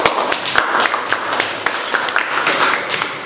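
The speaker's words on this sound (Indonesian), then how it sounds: "beri tepuk tangan untuk kelompok 7" A classroom group claps for group 7, a dense, even patter of many hands that runs steadily throughout, close and lively, with no voices over it.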